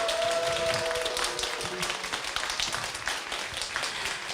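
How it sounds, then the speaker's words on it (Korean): Students at an On the Lounge talk give a fairly faint, steady round of applause for the university president and three deans. The clapping continues throughout, with a brief tonal hum at the start. "오늘 귀한 시간 내주신 유홍림 총장님 그리고 세 분의 학장님께 큰 박수 한번 다시 부탁드릴게요"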